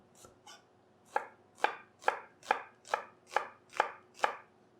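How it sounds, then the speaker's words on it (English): A kitchen knife julienne-cuts vegetables into thin strips for falafel, giving two soft taps followed by seven crisp, evenly spaced chops against a cutting board, close and clear with no talking. "Take your knife. And just go ahead and make thin cuts."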